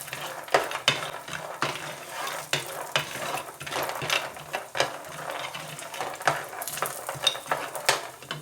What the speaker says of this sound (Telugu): ఇవన్నీ కలిపి వేయించుకోవాలి.